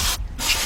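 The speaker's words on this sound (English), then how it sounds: "brake cleaner or brake spray" Brake cleaner sprayed from an aerosol can during a front brake pad replacement on a 2013 Ford Explorer 3.5, heard as two close, loud hissing bursts split by a brief pause.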